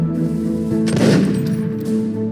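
A Blunderbuss firing in Terraria with the Calamity Mod, a loud burst of gunfire over continuous game music.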